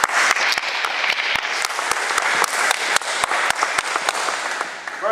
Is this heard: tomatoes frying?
no